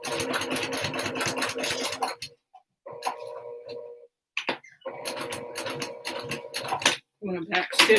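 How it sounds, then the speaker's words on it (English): A sewing machine stitches outer lines on waterproof canvas while sewing a zipper pocket, running in several steady bursts separated by short pauses, close and fairly loud. "I'm going to sew on those outer lines that I made."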